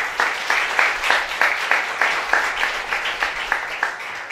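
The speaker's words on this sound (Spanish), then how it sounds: "Denle palmas al Señor." A church congregation in Buenos Aires claps in a steady, rhythmic beat for the Lord, regular unison handclaps repeating about twice a second, fairly loud and close.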